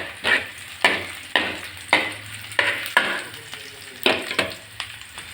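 A large spoon stirs food in a kawali frying pan over sizzling heat, with regular scraping strokes about every half second against a steady frying hiss, close and fairly loud with no talking.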